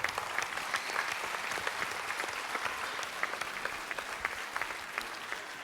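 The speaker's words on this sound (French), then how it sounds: "Gaëtan Dupré, je vous demande de l'applaudir très fort." Applause for a dog-training contestant at a local talent show in Calais, dense clapping heard faint and distant, holding at an even level throughout with sharper individual claps poking through.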